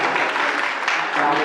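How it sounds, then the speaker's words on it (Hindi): Applause from an audience at a Jain Siddhachakra Mahamandal Vidhan ceremony in Rewari, Haryana, a brief burst of dense clapping with a voice speaking over it. "सबके लिए ताली हो रही है"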